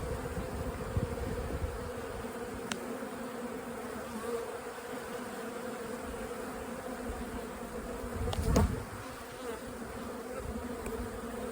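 Honeybees hum in a steady, close drone around the hive, with a brief louder burst of buzzing near the end.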